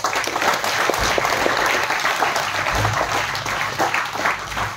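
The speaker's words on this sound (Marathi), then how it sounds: "एकदा टाळ्या वाजवा" An audience at a school educational festival of flute and tabla playing claps warmly, a dense, steady burst of applause from a crowd that lasts several seconds.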